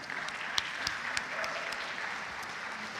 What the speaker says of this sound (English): You're allowed to clap.